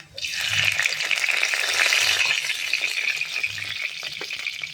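Spices sizzle and crackle in hot oil, a bright steady hiss with faint scraping underneath.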